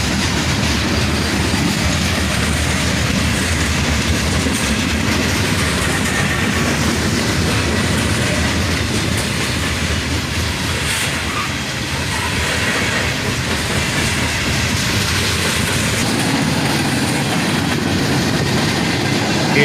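A CSX freight train of covered hopper cars rolls steadily past at close range, a continuous loud rumble of wheels on rails with rhythmic clacking and hiss throughout.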